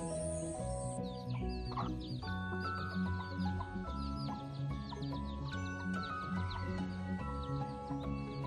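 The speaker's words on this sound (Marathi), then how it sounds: "या कोंबड्याला घाबरली ती" Farmyard birds in a village in Maharashtra: a rooster and hens cluck in short, repeated calls against a busy background of other bird chatter and rural noise, fairly faint and continuous throughout.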